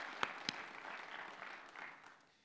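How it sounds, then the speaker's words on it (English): Applause from an audience at a Baltimore public safety community event, a few sharp claps then a steady, moderately quiet patter that fades toward the end. "could we give April Yvonne Garrett a round of applause?"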